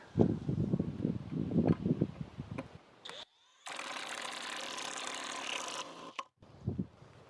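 A Hyper Tough mid torque impact wrench hammers away in a long, loud, continuous rattling burst of several seconds, preceded by a shorter rattle and uneven mechanical knocking, stopping abruptly near the end.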